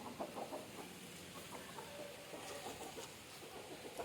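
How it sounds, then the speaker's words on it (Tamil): Free-range country chickens clucking softly as they scratch and forage around a coop, with a steady low background hum and scattered faint clucks through the scene. "பாருங்கள், ஜாலியாக இருந்து கோழி கிண்டிச்சு மெஞ்சிட்ருக்கு."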